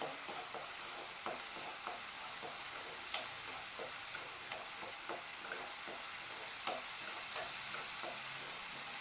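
Onions frying in a pan with a little turmeric, stirred steadily, give a soft continuous sizzle broken by light, regular scraping taps of the spoon.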